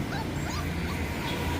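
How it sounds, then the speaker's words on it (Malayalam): A male Siberian Husky puppy whimpers and yips close by in a run of high, wavering cries over a low background rumble, ending abruptly. "സൈബീരിയ ഹസ്കി പപ്പീറ്റാ മെയിൽ പപ്പിയാണ് കേട്ടാ"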